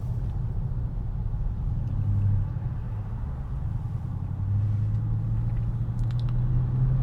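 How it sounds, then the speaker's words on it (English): Busy road traffic near a hospital flows as a continuous low rumble of car engines, swelling as vehicles pass close by, heard from inside a Tesla with no talking. "traffic is a little bit busy, but we're near a hospital"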